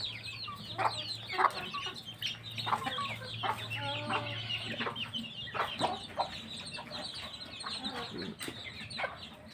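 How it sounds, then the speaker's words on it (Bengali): A flock of free-range chickens roaming loose on a farm, clucking and chattering continuously at close to moderate distance, with soft rustling and scratching between the calls. "এই যে দেখেন খোলামেলা, একটা মুরগিও আবদ্ধ না, সবগুলো ছাড়া।"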